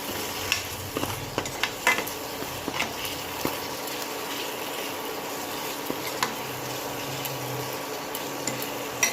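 Hot oil sizzles steadily in a pan as chillies go in for a Bengali prawn curry, with scattered stirring clicks and scrapes over the continuous frying hiss.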